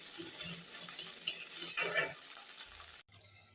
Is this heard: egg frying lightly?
yes